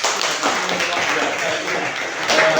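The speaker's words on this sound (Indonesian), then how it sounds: "Kasih tepuk tangan." A classroom group of teachers claps together, a steady, dense patter of many hands filling the space at moderate loudness, with faint voices murmuring underneath.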